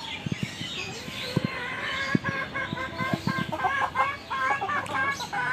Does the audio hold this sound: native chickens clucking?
yes